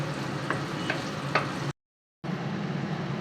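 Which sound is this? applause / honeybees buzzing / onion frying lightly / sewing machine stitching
onion frying lightly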